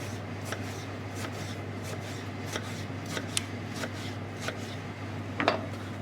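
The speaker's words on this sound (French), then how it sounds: "on va éplucher l'aubergine, on va la couper et on la coupe en petits dés" A knife cuts eggplant into small cubes on a cutting board, tapping in irregular, fairly quiet chops, with a steady low hum in the background.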